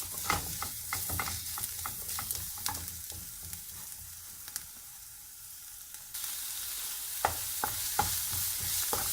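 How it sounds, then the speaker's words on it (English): Spices frying in a pan for beef kebabs crackle and sizzle while a utensil stirs them, with clustered scraping clicks, a quieter stretch midway, then renewed stirring taps. "just gonna give a quick stir"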